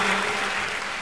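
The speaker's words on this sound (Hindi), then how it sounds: "ताली बजाइए जोरदार" A live audience at a Hardoi kavi sammelan (Hindi poetry gathering) bursts into dense, steady applause, many hands clapping together at full volume through a short moment.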